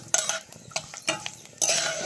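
Mustard seeds, green chillies and curry leaves frying lightly in hot oil, with a faint sizzle under sharp, irregular scrapes and taps of a spoon against the pan, close by.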